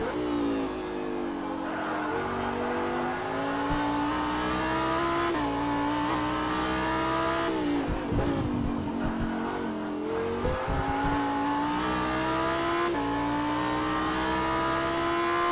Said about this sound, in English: Let's ride with JT Tammy in the number 202 Lamborghini STC